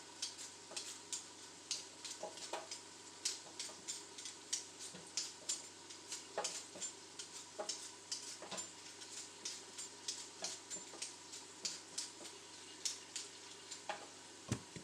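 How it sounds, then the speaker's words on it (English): Onions frying in a pan give a continuous crackling sizzle throughout, with a steady pattern of small pops and taps from the pan, and no talking. "So you can probably hear those onions going in the background."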